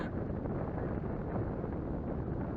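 Steady, dense wind buffets the microphone outdoors during the flight of a DJI Phantom 3 Standard drone, a constant low roar with no other clear sounds.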